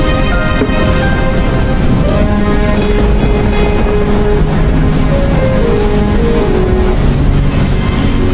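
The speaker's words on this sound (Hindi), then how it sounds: "ये बारिश तो रुकने का नाम ही नहीं ले रही" Heavy rain in a Hindi cartoon story, a dense, loud, unbroken hiss of falling water that fills the whole stretch, with faint tonal background music running underneath.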